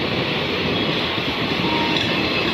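An intercity passenger train runs past Lusada, producing a loud, continuous close-range rumble of wheels and carriages without a break, with no speech.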